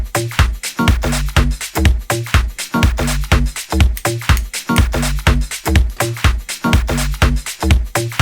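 A retro-styled dance music track built on a repeating organ loop over a steady, punchy 707 kick drum, looping evenly and loud throughout with no voices.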